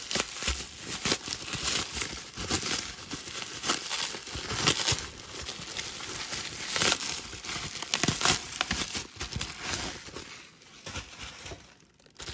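Paper and plastic packaging around a Spinnaker Dumas GMT watch crinkles and tears nearby in a steady run of rustling, crackling handling noise with no talk.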